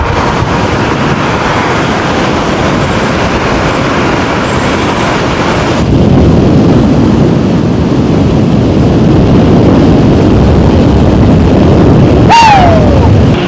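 A Teverun Fighter Supreme 7260r electric scooter pulling away on turbo, heard as loud, constant wind rush against the microphone that grows denser midway, with a brief rising whine near the end.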